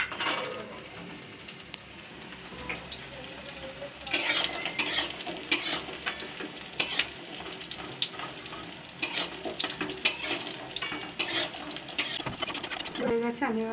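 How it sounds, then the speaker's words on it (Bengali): Bori lentil dumplings fry in a pan with a soft sizzle, while a utensil stirs and scrapes against the metal in frequent clinks and clatters, close and busy, with a voice faintly in the background. "আমি বড়িটা ভেজে নিচ্ছি।"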